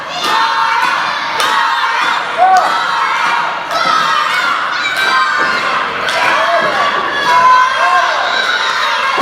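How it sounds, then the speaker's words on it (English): A wrestling crowd cheers and shouts throughout, with children's voices prominent and repeated thuds of bodies hitting the ring mat breaking through the noise. "Still over there cheering Karl on."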